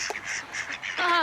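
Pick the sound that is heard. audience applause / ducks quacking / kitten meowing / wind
ducks quacking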